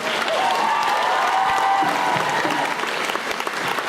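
A crowd at a convention panel applauds steadily, a dense wash of clapping that holds for a few seconds and slowly thins out.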